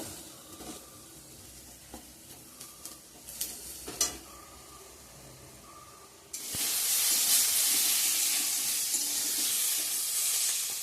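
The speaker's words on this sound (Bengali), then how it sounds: "আমার এদিকে বেগুন ভাজাটা হয়ে গেছে," Eggplant fries in a home kitchen pan with scattered stirring clinks and scrapes over a quiet sizzle, then a sudden loud, steady hiss of oil that continues to the end, heard close without talk.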